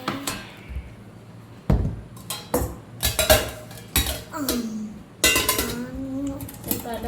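Metal kitchen vessels and a spoon clatter and clink in several sharp bursts at close range, with a few brief voice-like sounds in between.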